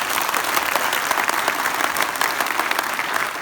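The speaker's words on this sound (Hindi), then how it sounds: "जोरदार ताली खुद के लिए बजाओ" A crowd at a Hindi talk show claps loudly and steadily for several seconds, a dense wash of applause with no break.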